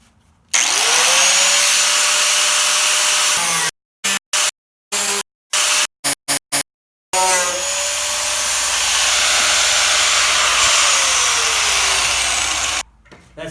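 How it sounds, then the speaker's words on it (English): A power tool cuts rusted metal on a 1976 Mustang II, a loud close whine and grind that runs steadily, stops and starts in several short bursts, then runs long again. "I'm going to go ahead and start cutting just a little bit below that line"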